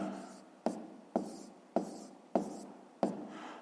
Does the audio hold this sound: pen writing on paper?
yes